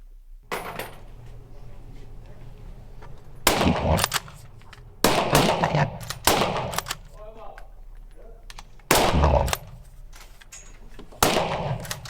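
Loud rifle shots ring out in a hunting shooting cinema, about six sharp reports spaced a second or two apart with short echoing tails, while people talk quietly between shots.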